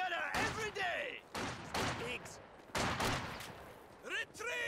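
Bursts of gunfire and a rifle grenade blast crack in a Company of Heroes 2 battle, several loud volleys in quick succession with a voice talking over the fighting.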